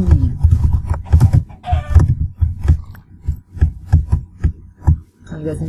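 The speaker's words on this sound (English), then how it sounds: "And I hear chickens." Minecraft chickens cluck in short, repeated bursts over a thumping, uneven background of game sounds, fairly close and moderately loud.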